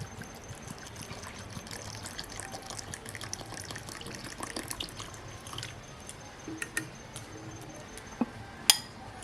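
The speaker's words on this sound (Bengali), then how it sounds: "আর পরিমাণ মতো জল দিয়ে দেবো।" Water poured into a semolina and raw potato dough mix, a faint steady trickle with scattered drips and light clinks of a glass or bowl, close and quiet, with no talking.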